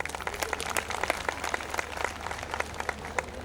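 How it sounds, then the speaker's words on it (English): A college audience claps for students in a brief, fairly soft round of applause, with irregular individual claps forming a steady patter. "Let us celebrate the success of our students with a well-deserved round of"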